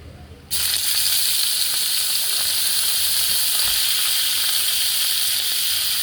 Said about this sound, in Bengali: চিকেনগুলো আমি একটু কড়াইতে করে নিচ্ছি